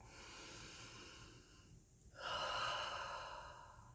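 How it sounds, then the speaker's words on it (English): A single deep breath taken in quiet, a faint inhale followed by a slightly louder, longer exhale, heard alone with no talking. "Take a deep breath."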